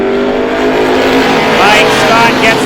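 Stock cars from the Strictly Stocks division roar through a green-flag restart at Star Speedway, a loud continuous engine drone with rising revs as the pack accelerates, mixed with crowd and announcer noise.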